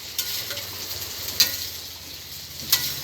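Tokwa sisig, a fried tofu dish, sizzles steadily in a pan while a utensil stirs it, with a few sharper scrapes standing out over the constant close hiss.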